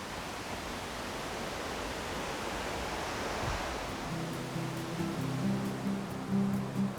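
The Galion waterfall in Guadeloupe gives a steady, broad roar of falling water that holds at an even level throughout. A faint low tonal hum joins the roar in the later seconds.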